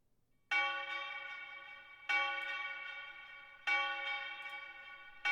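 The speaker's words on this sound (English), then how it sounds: "And then I add in this tubular bell." A tubular bell plays solo in a trap beat made in FL Studio, struck once on every downbeat: four clear, ringing strikes at a steady pace, each sustaining bright overtones until the next hit.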